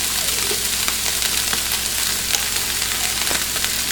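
Refried beans sizzle as they hit a hot pan of sweating onions and garlic, a steady loud frying hiss with small pops and stirring scrapes throughout.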